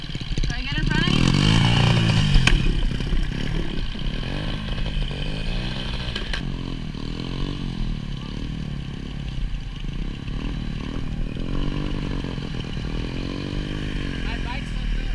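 Motorcycle engine running while riding on a road in Vietnam on the way to Dalat, a steady drone throughout with wind rumble and people talking over it.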